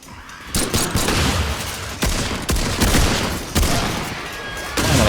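Rapid bursts of video game gunfire crackle loudly and repeatedly, with sharp cracks of individual shots amid dense fusillade across the whole stretch.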